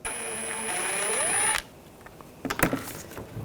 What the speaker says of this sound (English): use a T20 socket, take this screw out.